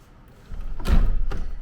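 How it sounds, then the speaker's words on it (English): Doors on a Santorini patio being shut: a low rumble of sliding movement, then a heavy thud and a second, lighter knock close by. "And then these doors are interesting to shut."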